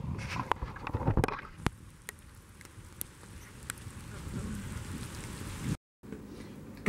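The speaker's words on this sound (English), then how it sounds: "look, it's raining" Rain falls steadily outdoors at a resort, a soft even patter with scattered sharper drops at moderate distance, briefly cut by a short gap near the end.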